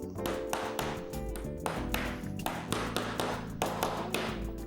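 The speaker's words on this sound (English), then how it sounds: "We help it with the hammer" A hammer taps a cup hinge into the pre-drilled holes of a kitchen cabinet door. About a dozen sharp, ringing taps come close and loud at an uneven rhythm, with no talking.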